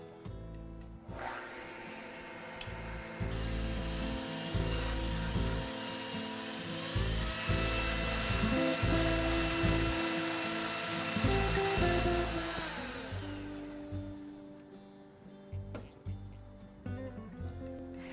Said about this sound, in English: with my handheld electric mixer, you don't need a big stand mixer to make a coffee cake